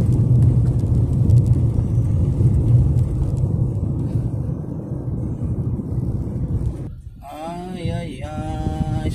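Cars and other traffic move along the South Super Highway, heard from inside a moving vehicle as a loud, continuous low road rumble that dips briefly before a wavering tonal whine comes in near the end.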